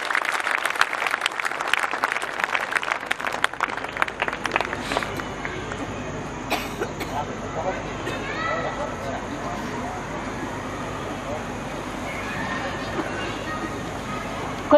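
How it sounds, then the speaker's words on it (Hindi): Audience at a Hindi poetry recital (kavi sammelan) applauding as a poet is welcomed to the stage: loud clapping at first, fading after a few seconds into crowd murmur and shuffling. "तो जोरदार ताली से बुलाइए आ रही है आदरणीय मुमताज नसीम।"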